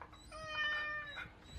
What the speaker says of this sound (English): Maxie, meow.